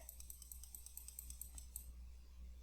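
Rapid light key presses on a handheld graphing calculator keypad, a quick run of faint clicks over a low hum, then stopping.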